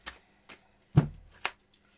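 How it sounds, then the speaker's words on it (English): Tarot cards shuffled by hand during a reading, four separate crisp riffles spaced about half a second apart, close and fairly loud against near silence. "Here are your 10 official shuffles, Senny."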